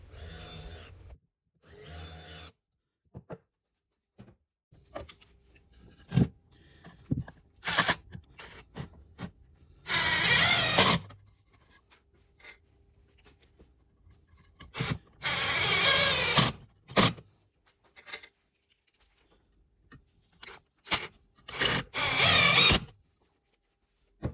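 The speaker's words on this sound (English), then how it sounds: "we're using a Phillips bit and rounding out the holes to countersink the heads of the screws" A power drill with a Phillips bit rounds out screw holes in wood to countersink the screw heads. It comes as several short, loud grinding bursts separated by quiet pauses, with no talking.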